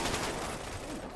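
Video game shootout gunfire crackles in a dense, rapid burst of overlapping shots over about a second, fairly faint in the mix.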